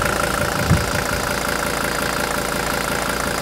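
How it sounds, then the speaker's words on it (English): A hot diesel engine with its crankcase breather plugged idles close by, at about 180 degrees, in a steady uniform rumble with a faint knock and no talk. "Now let's go ahead and plug the breather."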